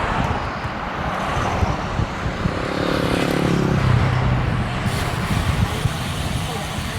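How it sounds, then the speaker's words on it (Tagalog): Strong headwind roars and buffets across the microphone of a moving motorcycle on a ride near Alaminos City. The rumble is loud and continuous, with low gusting surges throughout. "Lakas ng hangin mga master."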